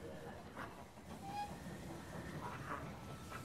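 A train arrives at a station in the strategy game They Are Billions, a faint rolling rumble with soft clanking and a brief whistle-like tone, heard at low level amid game ambience.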